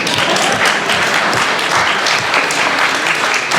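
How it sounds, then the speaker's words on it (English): Applause from a crowd at a political speech, steady dense clapping that fills the moment without a break. "You can clap."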